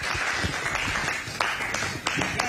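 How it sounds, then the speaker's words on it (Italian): Audience applause at a formal presentation or conference, a steady wash of many hands clapping that carries through the whole stretch at moderate loudness, with no voices over it. "diamo la parola alla professoressa Furiani, accogliamo con un applauso"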